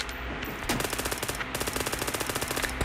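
Rapid close gunfire from a pistol in the PUBG video game, fired in quick rhythmic bursts of sharp shots over a few seconds.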